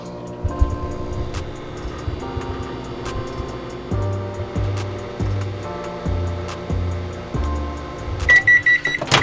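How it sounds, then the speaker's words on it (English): A microwave hums with a low, pulsing drone, close by and steady, ending with a quick series of beeps. "Into the microwave. Okay, in the microwave for"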